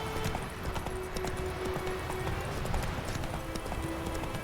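Roach, the horse from The Witcher 3, gallops with rapid, continuous hoofbeats close by, set against a busy game background with a sustained tonal hum.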